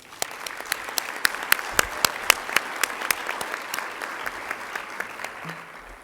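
An audience applauds at a Women's History Month celebration. The clapping starts with a few loud, distinct near claps over a general wash, then stays steady and slowly thins out.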